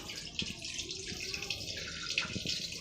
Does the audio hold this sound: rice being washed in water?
yes